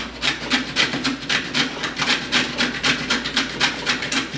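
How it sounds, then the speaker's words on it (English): Fibrous horseradish root is scraped across a grater in steady rhythmic rasping strokes, about four per second, close and moderately loud with no voices. "I'm just going to take my grater and just run it over the grater"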